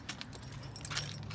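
Car keys jangling near the microphone in a series of quick metallic chinks over a low background hum.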